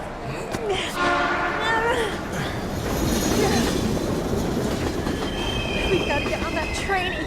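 A train in the video game Heavy Rain rumbles past with squealing wheels and rail clatter, a loud sustained roar, while voices speak over it.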